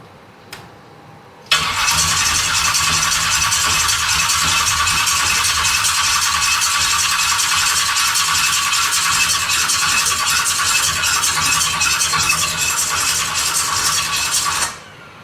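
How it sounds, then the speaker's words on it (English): An engine cranked over on the starter during a compression test, a loud, steady, rapid rattling churn that starts abruptly and runs for about thirteen seconds before cutting off, with no talking. "just spinning it over, we getting over 20 pounds"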